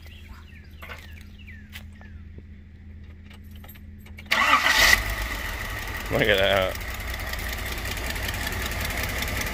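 Classic car engine starting: a few seconds of quiet handling and faint clicks, then a loud crank and catch, a brief rev, and a smooth steady idle, with a person talking briefly over it.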